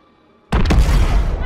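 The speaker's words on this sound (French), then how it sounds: "Fais exploser le véhicule, Alex." A vehicle blown up in the game Modern Warfare 2019, a single loud, sudden explosion that bursts after a short quiet and rumbles on.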